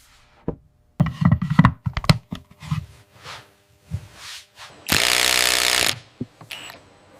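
Fasteners are tightened on a Focal Kanta center speaker with a series of close knocks and clicks, then a loud buzzing power-driver burst of about a second, followed by a few more taps.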